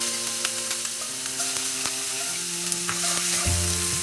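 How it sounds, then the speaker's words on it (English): Crushed coriander and cumin seeds with chopped green chili frying in olive oil, a continuous hissing sizzle with light crackles and occasional stirring clinks, close up and steady, with no talking. "Now I am adding 2 teaspoons crushed coriander and cumin seeds mix, 2 pieces of chopped green chili"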